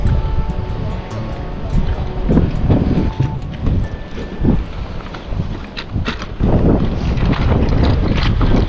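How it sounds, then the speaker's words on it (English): Heavy water surging and thudding against a cofferdam on Longboat Key after Hurricane Milton, with gusty wind noise buffeting the microphone throughout. "that noise we hear, that's water slamming against the cofferdam?"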